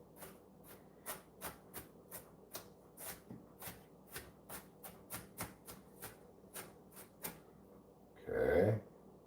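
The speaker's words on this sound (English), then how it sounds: "Push all the onions to the middle again. Give another couple chop throughs." A knife chops onions on a cutting board in a quick, even run of about twenty crisp knocks close by, ending with a short louder rustle of the pile being pushed together.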